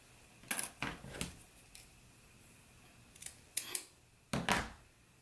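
Fabric scissors trim a pressed belt carrier for a pair of shorts, several crisp close snips in two short bursts with quiet pauses between.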